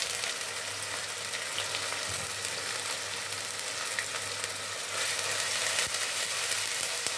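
Onion paste frying in a pan for a restaurant-style chicken rezala curry: a steady, dense sizzle that runs unbroken and close, swelling slightly louder toward the end, with no one talking.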